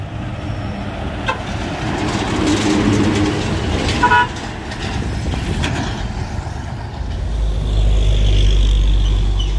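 A dump truck on a steep hill road, its engine laboring with a rough rumble, a couple of short horn toots, and a deep low growl building louder toward the end.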